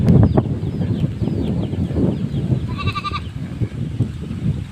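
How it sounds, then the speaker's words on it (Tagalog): Goats bleat now and then over a busy small-farm background, with a brief high chirping call partway through; no one speaks. "Ayan, ang ating mga kambing dito."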